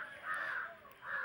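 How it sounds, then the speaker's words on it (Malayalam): Crows caw faintly in the distance at an outdoor cricket match, a couple of drawn-out calls against quiet background noise. "കാക്കയൊക്കെ കാണുന്നുണ്ട് ഗൈസ്."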